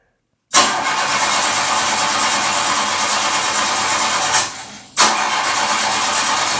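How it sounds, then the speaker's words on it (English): A car engine cranks loudly and steadily for about four seconds, cuts out briefly, then cranks again, heard alone and close. "you ever heard a car trying to start?"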